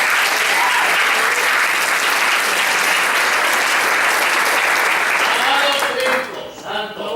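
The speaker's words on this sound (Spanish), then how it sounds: "Pero fuerte el aplauso" Loud, dense applause from a church congregation fills the space, sustained clapping from many hands that thins and fades out near the end.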